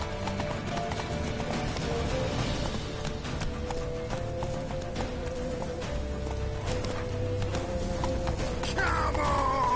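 Rapid hooves clatter in a steady galloping rhythm over a continuous game soundscape in The Witcher 3: Wild Hunt, with a brief rising tone near the end.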